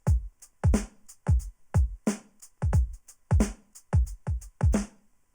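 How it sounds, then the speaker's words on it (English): A punchy drum loop with deep kicks and crisp hi-hat and snare hits in a steady groove, playing alone at moderate volume. "So got some drums in there."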